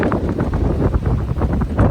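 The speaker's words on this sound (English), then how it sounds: "And it is windy out here." Strong wind buffets the microphone in continuous gusty rumbles, loud and close, with no voices.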